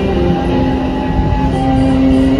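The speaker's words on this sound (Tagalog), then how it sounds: "nandito na rin yung ano, yung tren." A train pulls into a station on Toronto transit, a steady rumbling drone with faint tonal whine, continuous and fairly loud with no talk.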